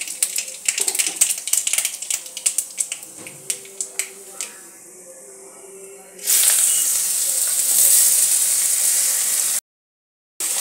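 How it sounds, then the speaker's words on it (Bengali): Mustard seeds and dried chilies pop and crackle in hot oil in quick, sharp bursts. Then bottle gourd is tipped in, and a loud, continuous hissing sizzle takes over before it cuts off abruptly. "তো এই দেখুন, একটু সর্ষে আর একটু শুকনো লঙ্কা আমি এতে ফোড়ন দিলাম। দিয়ে আমি লাউগুলো এতে দিয়ে দেবো।"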